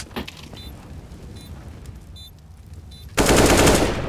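Gunfire in the video game CS:GO: scattered faint shots and game sounds, then a loud, dense burst of rapid automatic fire near the end.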